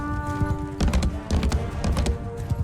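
Cavalry horses in Mount & Blade 2 Bannerlord break into rapid hoofbeats, a dense run of clip-clops at close range over a steady game soundscape, with no voices heard.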